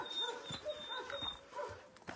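Dogs and puppies kept near a rest house whimper and yip faintly. Several thin, high whines repeat in quick succession over a couple of seconds against a quiet background.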